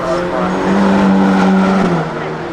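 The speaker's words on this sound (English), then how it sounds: "I think that's the Ferrari" A Ferrari with a front-mounted engine of 600-plus horsepower drives past at a hypercar event, its engine note loud and close with a steady then dropping pitch over a few seconds.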